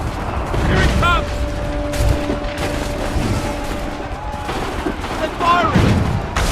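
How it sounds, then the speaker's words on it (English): Gunfire crackles through a battle in Assassin's Creed III, with musket volleys and booms sounding over steady background noise while voices shout over the shooting. "Incoming fire! Get down!"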